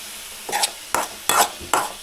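Onions fry in a pan and are stirred in four quick scraping strokes, each a loud, close swish over a low sizzle.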